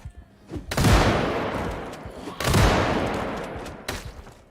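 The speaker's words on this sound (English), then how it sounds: "Dude, your gun is ridiculously loud." Loud gunfire from a player's gun in a video game set in Louisville on Icy Hell mode, two heavy booming blasts a second or so apart, each ringing and fading slowly, with a fainter crack after.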